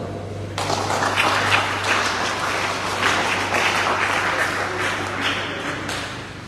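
A crowd at a youth program launch bursts into applause, sustained dense clapping from many hands that starts abruptly and holds steady, fairly loud, over a low constant hum.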